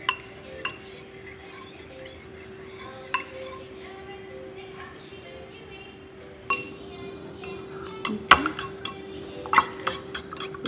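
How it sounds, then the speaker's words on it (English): A toddler and parent whisk a breakfast mixture in a bowl, with light clinks and taps of utensil against dish scattered through a quiet kitchen, sharper clinks near the end. "Whisk, whisk, whisk."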